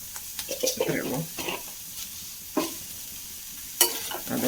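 Fennel seeds frying in hot coconut oil while being stirred, a few sharp scraping strokes and light sizzling bursts scattered across a quiet background.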